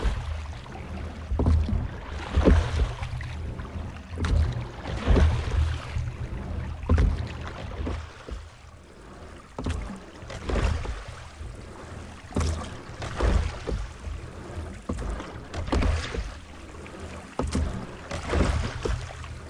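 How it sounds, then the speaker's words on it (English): Rowboat rowed hard against the current through a narrow channel in British Columbia's Inside Passage, with rhythmic oar strokes and water splashes repeating every couple of seconds over steady wind and water noise outdoors. "had to row hard against the current through another narrow channel"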